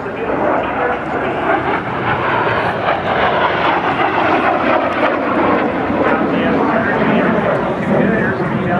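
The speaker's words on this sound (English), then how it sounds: "that is the beautiful T-33" A Lockheed T-33 jet flies past at an airshow, its loud, steady engine roar sustained and close for the whole stretch while an announcer keeps talking over it.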